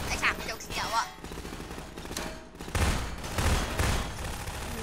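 Gunfire in the Garry's Mod video game, bursts of rapid shots in several clusters, fairly close, with a voice talking intermittently between them.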